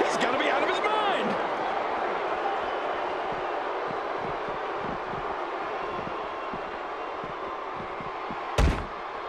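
A wrestling arena crowd at a WWE title match roars in a sustained, dense wash of cheering, with a brief sharp burst near the end, under a commentator's voice.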